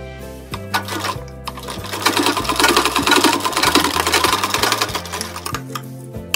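A sewing machine stitches along the folded inner edge of a blouse. It runs in close, steady bursts and stops and starts several times, with no talk over it.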